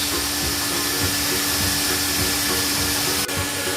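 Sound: vacuum cleaner inflating a Disney McQueen air mattress

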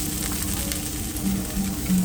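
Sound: pork grilling on hot pan

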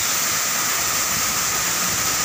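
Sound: Lembah Anai waterfall

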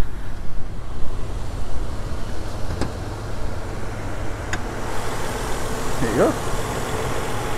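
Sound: Toyota Crown 1JZ-GE inline six engine running

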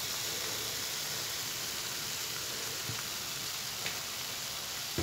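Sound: onions and chicken frying in butter

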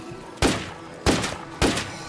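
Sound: gunshots in State of Decay 2 video game

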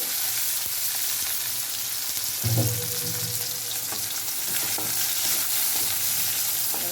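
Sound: onion and tomato frying in bitter gourd gravy

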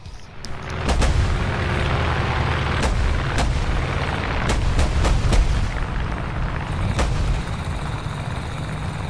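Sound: tank cannon firing in a video game

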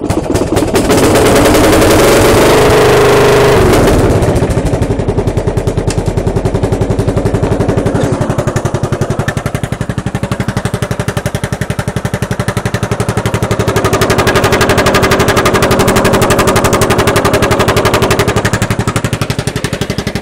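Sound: tractor engine with resonator exhaust

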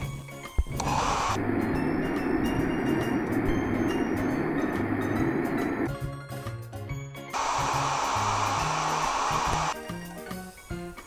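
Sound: hair dryer in Toca Hair Salon 2 video game

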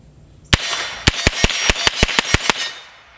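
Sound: 22LR rifle shots hitting AR500 steel target at 10 yards

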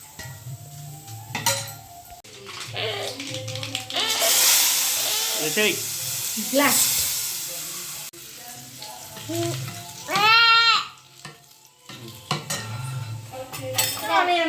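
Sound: tempering sizzling in pan for curd vada

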